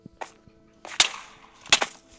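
Sharp cracking blasts go off in quick succession, three or four loud pops with brief gaps between them, TNT exploding in Minecraft.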